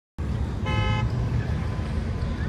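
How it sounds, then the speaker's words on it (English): A single car horn on the street sounds one short toot amid steady traffic and road noise, with no talking during the clip. "There's a guy beeping right there"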